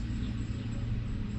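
Cars and trucks passing on a road outdoors, heard as a continuous low rumble of traffic at moderate distance, steady throughout with no talk.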